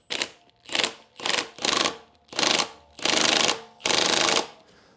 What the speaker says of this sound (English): And then I use the impact wrench right here